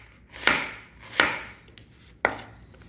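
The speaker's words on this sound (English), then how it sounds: "I'm using my plastic cutting board today. And it's loud." Three sharp knife chops on a plastic cutting board, spaced unevenly, each a loud close clack with a brief ring, alone with no talk.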